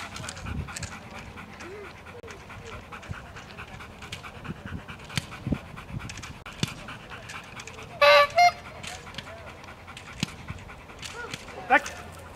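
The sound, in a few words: dog panting during a training exercise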